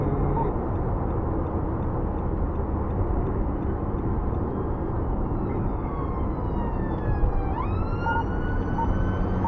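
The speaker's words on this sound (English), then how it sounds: "there's an ambulance coming up going up behind me." A wailing ambulance siren grows louder and rises in pitch over steady road and engine noise from inside a moving Nissan Qashqai.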